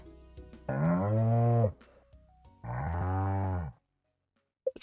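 A cow in the video game Stardew Valley moos twice, two long, deep, tonal calls close up with a short pause between, followed by quiet and a faint click.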